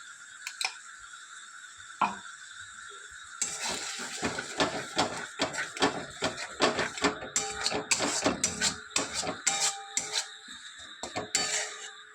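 A spatula stirs cashew, poppy seed and green chilli paste in a kadai over a low flame, giving irregular scraping and clinking strokes against the pan, close and fairly quiet, with no talk.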